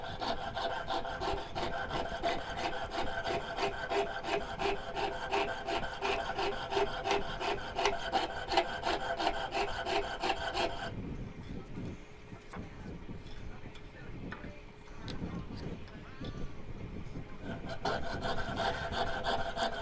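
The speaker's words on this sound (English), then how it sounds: "I use these little paint brushes to kind of brush off the wax and the metal shavings." A small paint brush scrubs wax and metal shavings off a metal part, producing rapid rhythmic rasping strokes that are loud and close, then softer and more scattered for several seconds before resuming.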